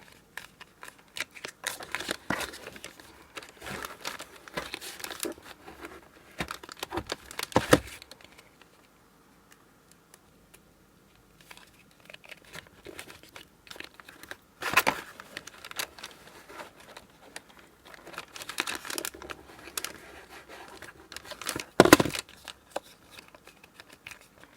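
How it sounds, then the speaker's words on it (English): Used Christmas cracker paper is folded and squashed flat by hand, making soft crinkling, rustling and sharp creasing sounds in irregular bursts, with a few louder snaps and a brief quiet pause partway through. "we're going to be squashing those closed as well, like that, so that we're actually folding it into 8."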